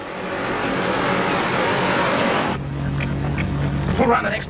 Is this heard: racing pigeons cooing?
no